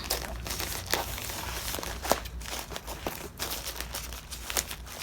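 A flat rate mail package holding zippers and fabric scraps is opened close by, with continuous crinkling, rustling and tearing of packaging broken by sharp crackles and small thumps, no talking.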